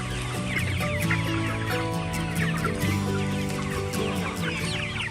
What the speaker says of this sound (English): Free-range chickens spend their lives roaming open hills, basking in the sun and foraging for food